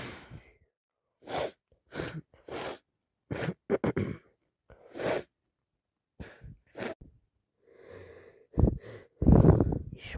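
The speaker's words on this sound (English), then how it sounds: "But here I am, sneezing" A person with a cold lets out a series of sneezes, sniffs and sharp breaths in separate bursts with quiet gaps between them, close and moderately loud, ending in a stronger pair of sneezes.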